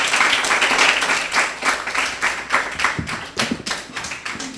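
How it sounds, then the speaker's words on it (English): Steady clapping from a group of people at a junior high school quiz show, a dense run of rapid hand claps close by that keeps going without any talk over it. "it is time for us to clap"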